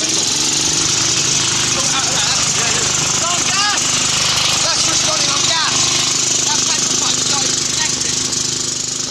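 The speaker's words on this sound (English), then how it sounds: "The lawnmower runs on methane, which means it should run on biogas." A lawn mower engine running on methane fed directly into it, a steady loud mechanical drone through the whole stretch, with people talking over it.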